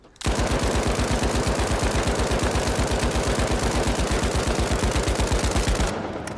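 A Lewis gun in the shooter game The Finals fires one sustained, rapid automatic burst lasting about six seconds, each shot rattling in a tight, even rhythm, loud and close, with no talk.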